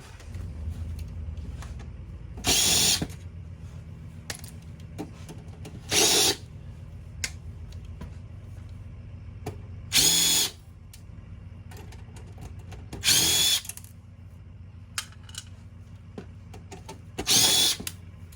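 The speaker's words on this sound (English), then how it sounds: "I gotta take some screws off the back here." A power drill backs screws out of the rear panel of a security system box being scrapped for e-waste. Four short, loud whirring bursts are spaced a few seconds apart over a quiet background, with no talking.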